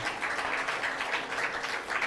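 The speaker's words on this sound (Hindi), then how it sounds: "भगवान सत्यनारायण देव के लिए अद्भुत तालियां बजाना" Faint, steady applause from a crowd at a religious discourse, a soft continuous patter of clapping heard from a distance.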